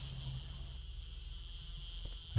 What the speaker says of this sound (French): Allez, va-t'en, l'abeille.